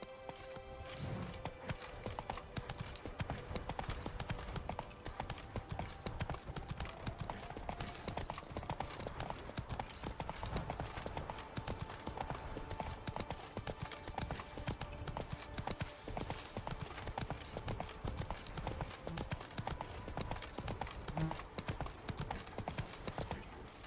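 A horse gallops in The Witcher 3 video game, its hooves pounding a fast, steady clip-clop rhythm throughout, close and prominent over soft background ambience.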